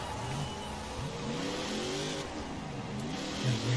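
Tractor engine driving slowly, a low mid-pitched engine note that rises and falls in gentle revs, steady and fairly close, with no talk.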